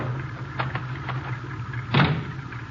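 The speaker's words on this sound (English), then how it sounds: "I'll open the garage doors." Garage doors opening as a sound effect in a 1951 radio drama: a low rumbling mechanical hum with a few soft knocks, then a louder thump and scrape near the end.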